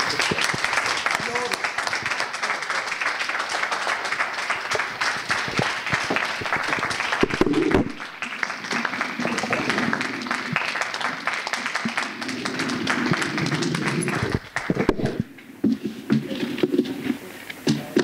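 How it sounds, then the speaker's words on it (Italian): Audience applause at a community stage performance, sustained clapping from a crowd filling the room for most of the span, with a voice speaking over it near the end as the clapping thins. "Facciamo un altro"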